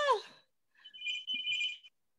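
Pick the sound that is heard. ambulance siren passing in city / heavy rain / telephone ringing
telephone ringing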